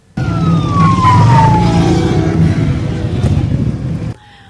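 A loud, close engine roar from a motorcycle convoy dominates, with a high siren tone gliding downward over it before it cuts off abruptly.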